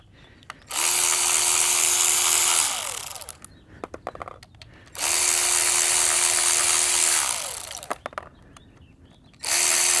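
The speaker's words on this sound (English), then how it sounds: "we take our T25 and we'll remove these 4 bolts." Electric driver with a T25 Torx bit spinning out bolts from a Kelsey-Hayes EBC310 ABS module off a GM OBS truck, three long buzzing whirs with brief clicks and handling noise between them, close and loud.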